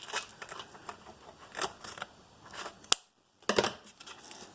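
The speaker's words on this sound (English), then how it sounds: "I'm going to go ahead and cut." Scissors snip through wreath material on a Dollar Tree Valentine's farmhouse heart wreath, a few crisp close cuts among soft handling rustles, with a sharp snip followed by a brief silence.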